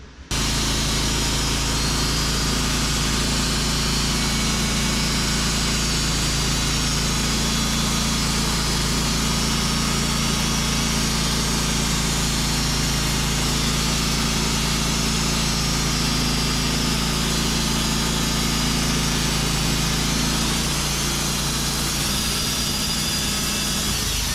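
An engine-powered saw cuts boards off a heavy oak log, giving a loud, steady mechanical drone that runs unbroken from start to finish with no voices.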